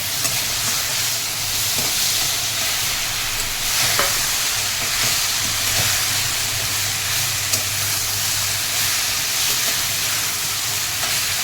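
Banana flower (mocha) being sautéed in a pan gives a steady, loud sizzle and hiss with occasional soft stirring scrapes throughout, and no voices.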